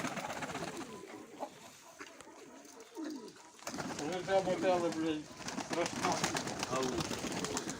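Pigeons coo softly in a loft, their low burbling calls partly masked by people talking nearby and background noise.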